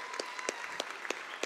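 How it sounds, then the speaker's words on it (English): A handful of scattered, evenly spaced hand claps from an audience during a church sermon, thin and moderately distant rather than a full ovation, with a faint room murmur underneath. "Can you guys give him a round of applause?"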